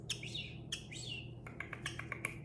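A bird calls nearby, two drawn-out raspy squawks followed by a quick series of sharp chirps, over a low background hum.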